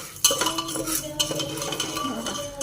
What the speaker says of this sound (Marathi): आता मी एवढं टाकले ना आणि घ्यायचं असं परतून